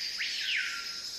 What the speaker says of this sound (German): Das sind kleine Vögel.